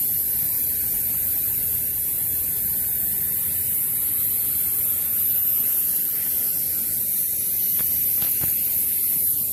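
Steady hiss of a detail paint sprayer misting Meguiar's Hyper Dressing onto car tires, continuous and close with a low hum beneath, and a couple of brief sharp ticks near the end.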